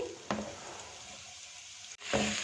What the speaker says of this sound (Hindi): इसमें कटिंग किए हुए प्याज को भी शामिल कर देंगे